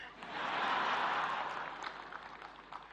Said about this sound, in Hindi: मैं देख रहा हूं पहली बार पुरुष ताली बजा रहे हैं